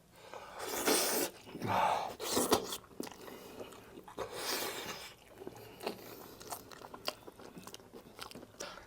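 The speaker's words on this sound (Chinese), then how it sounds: "尝尝这个甲鱼头。" Close, wet chewing and biting on a cooked soft-shell turtle head, braised spicy, with crunchy bites, slurps and sharp breaths in irregular bursts, no talking.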